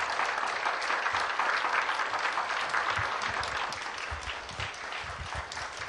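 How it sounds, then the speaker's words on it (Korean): Church congregation applauding to welcome a pastor at a Friday service, a broad continuous wash of many hands clapping, steady and fairly loud, with some low murmur underneath. "박수로 우리 환영해 주시길 바랍니다."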